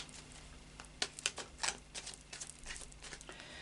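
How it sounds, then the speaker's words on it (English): Light Seers Tarot cards are shuffled close by, a quick crisp patter of riffling and snapping bursts over a quiet background. "So a final shuffle then of the Light Seers Tarot."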